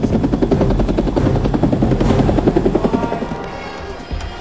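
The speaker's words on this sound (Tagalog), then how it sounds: "it seems like a rescue helicopter na may bit-bit na malaking bote ng" A rescue helicopter carrying a giant Coke bottle passes overhead at a promotional event, its loud rapid rotor thumping steady before fading slightly as it moves away.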